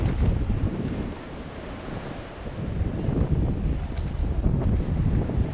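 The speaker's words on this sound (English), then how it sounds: "See if the wave pushes up high." Ocean waves wash up a beach in a continuous rushing surge, close and loud, with heavy wind buffeting the microphone.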